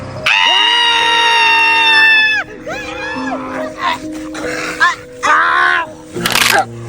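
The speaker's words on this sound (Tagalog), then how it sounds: "bakit parang may sumisigaw?" A long, high, piercing scream rings out loudly and alone, followed by shorter cries and frantic vocal sounds in a comedic horror drama scene.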